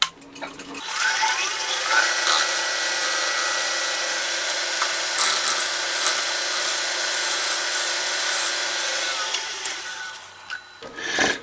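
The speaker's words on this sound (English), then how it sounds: "then I'm just going to use that shear scrape on either side just to try to get" Wood lathe shear-scrape cut blending the surface of a turned wooden sphere made with a sphere jig: a steady, loud, close hissing scrape that holds for about ten seconds before stopping, with no talk.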